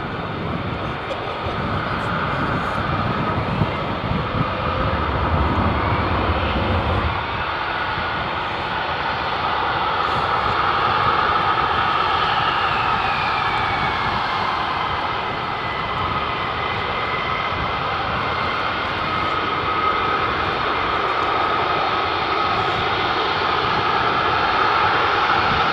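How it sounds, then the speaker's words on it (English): An F-35 fighter jet with its Pratt & Whitney F135 engine roars at RAF Lakenheath, a loud sustained howl and rumble lasting the whole stretch, with people talking beneath it. "More Pratt & Whitney power, F-135"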